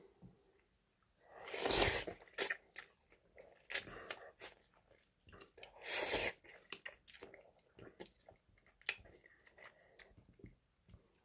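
Samyang Jjajang fiery black bean ramen noodles are eaten up close, with two loud bursts of slurping and then softer chewing and small wet smacks, with no talking.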